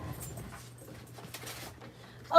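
Dogs pant softly and let out faint whimpers at close range in a quiet room, with a louder burst at the very end.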